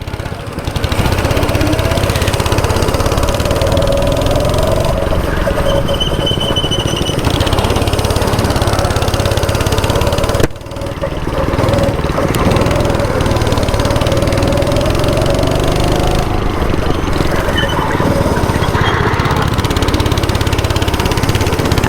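Small petrol go-kart engine running at a Shivamogga karting track, a loud, continuous rattling drone held close for the whole stretch, with one brief dip midway and little or no speech.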